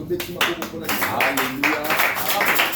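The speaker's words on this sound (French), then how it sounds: "on acclame pour la parole de Dieu" A church congregation claps in acclamation after a scripture reading, steady applause blending with a speaking voice throughout.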